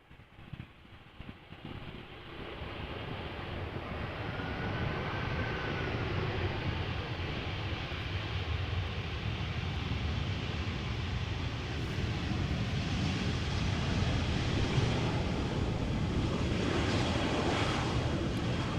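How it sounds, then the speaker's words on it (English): Air France A320 landing at Amsterdam Schiphol Airport, a broad roaring rumble of jet engines that swells and holds steady as the airliner touches down and rolls out, with no one talking. "A320 from Air France, arriving from Paris Charles de Gaulle."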